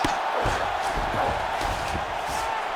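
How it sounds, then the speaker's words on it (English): A UFC arena crowd cheering during a bout between Robert Whittaker and Khamzat Chimaev, a dense, continuous roar of many voices with swelling shouts, sustained and loud throughout. "the crowd pops in appreciation as the fighters work their way back to the field"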